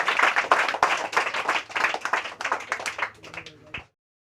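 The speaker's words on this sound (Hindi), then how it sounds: "उनके लिए एक बार ज़ोरदार तालियां।" Audience applause at a religious gathering as a woman takes the stage, a few seconds of close, dense clapping with distinct individual claps that thin out and stop abruptly.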